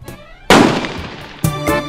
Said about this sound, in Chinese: 依次打靶，每人一个弹匣子弹六发。